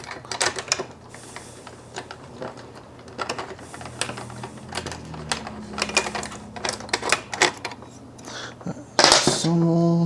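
Body and chassis screws are unscrewed from a Tokyo Marui VSR-One airsoft rifle, giving close, irregular metallic ticks and clicks of a screwdriver and loose parts, with a brief louder clatter toward the end.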